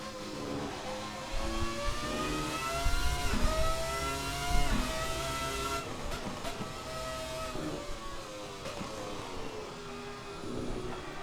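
A Ferrari F300 Formula One car's engine in the Assetto Corsa racing game revs up and down through gears, a loud gritty wail with rising and falling pitch sweeps, steady and alone.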